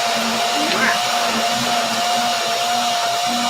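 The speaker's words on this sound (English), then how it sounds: "Blender dance." A blender whirs steadily as it mixes a fruit smoothie with frozen blueberries. A loud, constant motor whine runs throughout with a slight pitch wobble.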